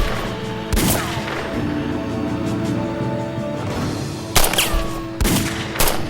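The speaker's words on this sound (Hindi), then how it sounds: "अब हमें मिलकर इन पर फायरिंग करनी होगी" Gunfire in an action drama series: several sharp, loud shots crack out in separate bursts over a constant rumbling background, with no talking.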